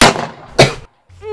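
Two heavy gunshot sound effects ring out in quick succession, loud and close, each with a short booming tail, then a brief silence before a faint tonal sound.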